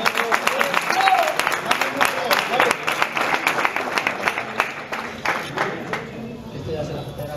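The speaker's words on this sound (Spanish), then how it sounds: "Y recibimos con un fuerte aplauso al campeón de España de la categoría, Jonathan Maravilla Alonso." An audience at a boxing weigh-in claps for a super lightweight Spanish champion in a strong, uneven burst that slowly thins out. A voice speaks over the clapping.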